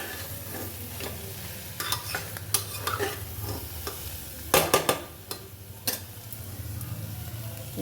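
Soybean dish frying in a pan as sauce goes in, a low sizzle broken by bursts of stirring scrapes and clatters, loudest midway, fairly quiet overall.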